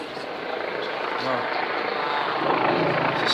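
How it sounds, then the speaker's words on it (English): Police helicopter flying over London Bridge in England after a stabbing, a continuous rotor and engine rumble that slowly grows louder overhead, with voices talking over it throughout. "Police, helicopter."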